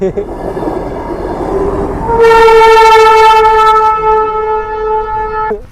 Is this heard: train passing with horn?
yes